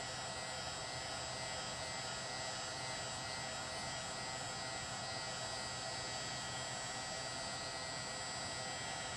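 A heat gun on a low setting heating the sides of a foam arrow, with a loud, steady airy blower whine that runs unbroken throughout.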